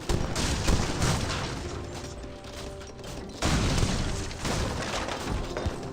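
Cannons firing in the real-time strategy game Age of Empires III amid battle noise, with repeated booming bursts over a dense, continuous clatter of combat that swells again midway.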